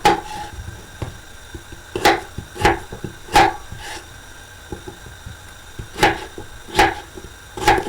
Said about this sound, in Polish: ziemniaki pokroję w drobną kostkę